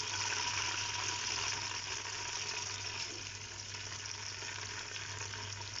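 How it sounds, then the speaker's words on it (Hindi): Onions sizzle and fry steadily in a pan for mutton haleem, a close, continuous crackling hiss with a low hum underneath, easing slightly partway through. "मैं इसमें आधे प्याज ऐड करता हूँ रेड करने के लिए।"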